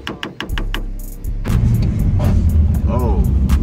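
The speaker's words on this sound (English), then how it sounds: "Got a little grind in second, but that's about it." A lowered Honda Accord drives with a steady, loud engine and road rumble, and its gearbox grinds in second gear; a few clicks and knocks come first as the car moves off.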